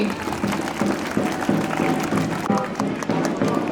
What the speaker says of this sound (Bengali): রাজীবের জন্য একটা করতালি।